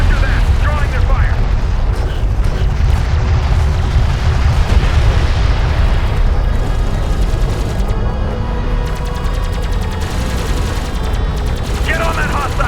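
Railgun fire in the Homeworld: Deserts of Kharak strategy game: a dense, continuous barrage of heavy booming shots and explosions, loud and sustained throughout, with radio voices talking over the battle.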